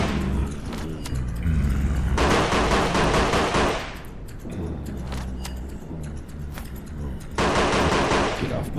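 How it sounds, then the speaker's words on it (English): Video game gunfire from two guns in an indie game, both built from a single gunshot sample altered slightly; dense rapid-fire bursts crackle loudly over a rumbling background, with one long burst midway and another near the end. "it's really one gunshot sound that I'm using for both guns"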